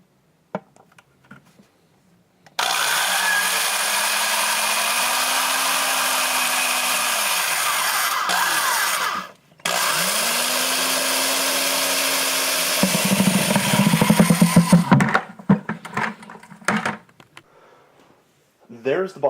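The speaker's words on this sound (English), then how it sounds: "That'll keep the buckets all nice and lined up while I drill this other hole." Power drill boring a hole in the bottom of a plastic bucket for a homemade water filter, two long loud whirring runs with a brief pause between them, then rattling and quieter handling noises.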